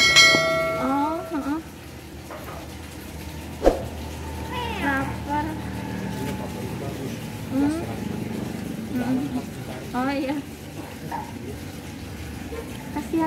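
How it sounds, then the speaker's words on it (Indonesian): Several hungry kittens meowing in short, high cries scattered across the stretch, with people chatting nearby and a sharp clink partway through. "Keliling kita nyari kucing, kasih kucing-kucing yang lapar."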